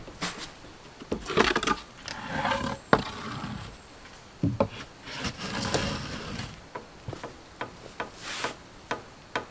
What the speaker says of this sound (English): That noise is just this post separating as the cabin's coming up.